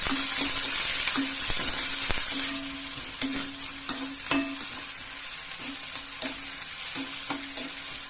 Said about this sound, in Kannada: ಈಗ ಜೀರಿಗೆ ಹಾಕೊಂಡ್ಬಿಡ್ತೀನಿ ಈರುಳ್ಳಿ ಫ್ರೈ ಮಾಡ್ತೀನಿ